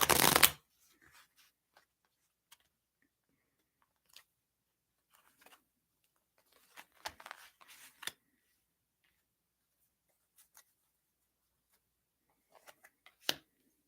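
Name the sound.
shuffling tarot cards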